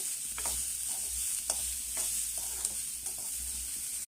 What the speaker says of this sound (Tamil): வந்துட்டு நல்லா மிக்ஸ் பண்ணிக்கலாம்.